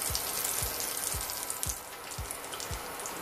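Butter browning in a pan ahead of calf liver, a steady close sizzle with bubbly crackle and a soft repeated low knock roughly every half second, no talking.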